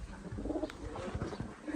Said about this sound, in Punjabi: ਬੜੇ ਪਿਆਰੇ ਪਿਆਰੇ ਕਬੂਤਰ ਫਿਰਦੇ ਨੇ ਇਹਨਾਂ ਕੋਲ